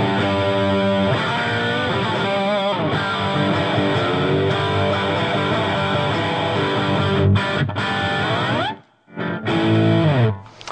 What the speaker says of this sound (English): Moving on, you get to the crunch channel. You get a lot of different tones out of this one.